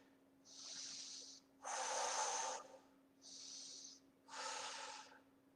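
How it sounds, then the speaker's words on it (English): Four deep, forceful breaths come in a slow in-out rhythm during a shadow kickboxing workout, close and breathy against a quiet background with a faint steady hum. "nice deep breaths"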